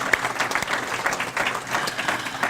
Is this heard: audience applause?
yes